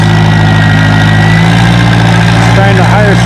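A WD-45 tractor at a tractor pull near Othello, Washington: a loud, close, steady low engine drone with a strong rumbling hum, rising slightly in pitch near the end as it pulls.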